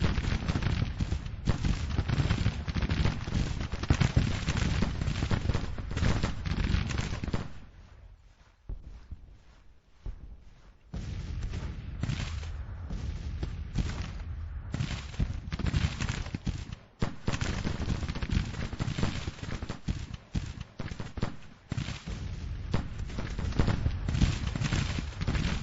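Artillery and musket fire in the Grand Tactician Civil War game, 1861 campaign, a dense, continuous battle din of booms and crackling volleys that briefly drops away before resuming, with distant hoof clatter.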